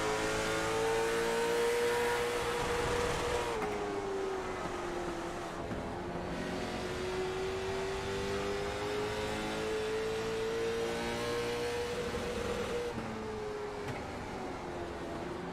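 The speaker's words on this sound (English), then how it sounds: "You can hear them hard on that rev limiter as they get close to entering the corner" Late model stock cars race at New Smyrna, engines held hard on the rev limiter in a loud, continuous buzzing drone with a slight wavering pitch. No one speaks over it.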